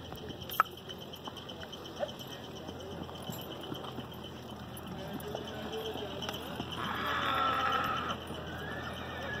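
A mare led in a circle outdoors: soft hoof steps under people talking, with a brief tonal whinny-like sound near the end.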